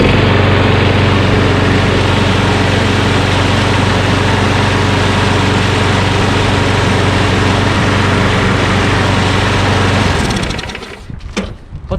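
A small lawnmower engine runs steadily and loudly close by, a constant rough drone that cuts off near the end with a few sputters and knocks.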